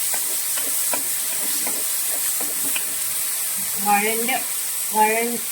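Chopped onion and green chilli sautéing in a pan, a steady sizzling hiss with faint stirring taps, and a few tonal rising sounds near the end over the frying.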